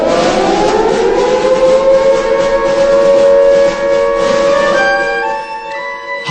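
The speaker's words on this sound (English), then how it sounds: "I'll put the kettle on." A kettle whistles as a comedy sound effect, a loud sustained tonal shriek that bends upward in pitch, holds steady, then wavers and fades near the end.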